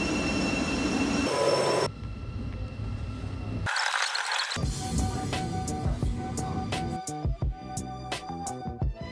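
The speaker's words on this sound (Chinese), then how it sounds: "这个火车的速度简直可以急死人呢" Slow train running near Cambridge, with rumbling wheels, squeals and clattering over the rails, moderately loud and shifting as it moves, with several abrupt cuts and no talk.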